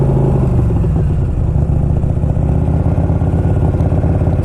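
A 1992 Harley-Davidson Electra Glide Sport motorcycle being ridden, its engine a steady, loud, close low rumble with a fast pulsing beat that continues throughout, with no talking.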